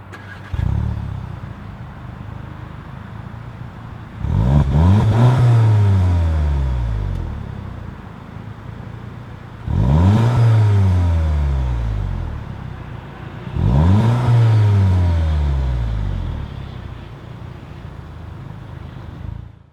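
A 2016 Volkswagen Golf GTI with Performance Package runs close by, its engine idling steadily and then revving hard three times at regular intervals, each rise falling back to idle, with no talk.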